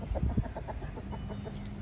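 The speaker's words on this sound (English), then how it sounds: "I don't think the Brahmas would have been as aggressive if Miss Bossy Fluffy Pants over here didn't stop eating to go and peck the rooster's butt" Brahma hens and a rooster clucking nearby, a short burst of low, rapid clucks followed by a softer sustained murmur from the flock.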